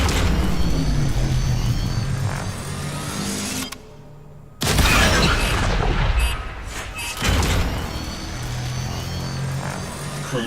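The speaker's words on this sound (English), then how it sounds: "Cruise ship reactor has detonated." A cruise ship reactor detonates in a video game: a loud, sustained roaring blast that drops out briefly, then surges back as heavy rumbling booms with crackling debris.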